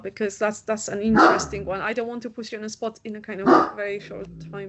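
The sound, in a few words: dog barking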